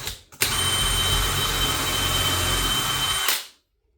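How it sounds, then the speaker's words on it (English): A power drill whines steadily for about three seconds, boring into soft wood, then spins down and stops, with no talking. "Just because this is a relatively soft wood, I am going to go ahead and pre-drill it."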